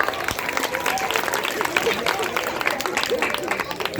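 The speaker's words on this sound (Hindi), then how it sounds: "आप लोगों के आशीर्वाद के लिए जोरदार तालियां बजा दें।" An audience at an outdoor community organization gathering applauds in a steady, dense patter of many hands, with crowd chatter mixed in.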